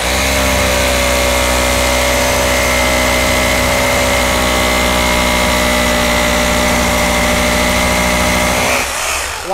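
An Osaka three-function rotary hammer drill cuts through hard concrete with a loud, even mechanical drone and a strong whining hum. It holds unbroken until it winds down abruptly just before the end, and nobody speaks.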